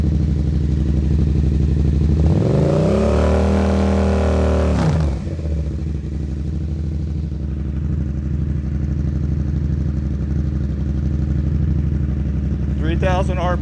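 A motorcycle engine with a fiberglass-packed exhaust baffle idles steadily, rises in one sharp rev to about 7,000 RPM around the middle, then settles back to a loud idle, with a voice speaking over it.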